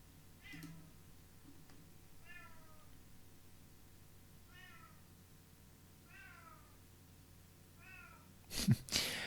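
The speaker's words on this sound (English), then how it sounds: "the microphone might be picking up the sound of my cat complaining" A cat meows repeatedly at a steady pace, several drawn-out cries a short distance away, followed by a brief clatter at the end.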